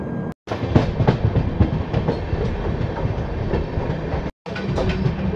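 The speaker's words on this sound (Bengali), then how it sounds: "ট্রেন এখন তার চতুর্থ স্টপেজ ভদ্রক স্টেশনে ঢুকছে।" The Puri–Howrah Shatabdi Express (12278) rolls into Bhadrak station, a loud, steady rumble and clatter of wagons filling the whole stretch, broken by two very brief gaps.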